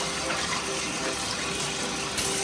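Running tap water rinsing a whole squash, a loud continuous gushing splash that holds steady throughout, with no talk over it.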